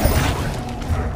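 The Incendio fire spell is cast in the Hogwarts Legacy video game, producing a short, loud, rushing burst of flame with a rumbling whoosh that fills about a second.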